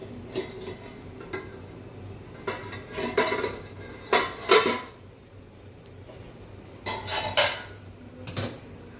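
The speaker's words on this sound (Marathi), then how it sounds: "आपण आता झाकण उघडून घेऊया." A metal lid lifted off a cooking pot holding steamed coriander fritter batter, with a series of sharp clinks and clatters of metal against metal spread across several seconds, close and fairly loud.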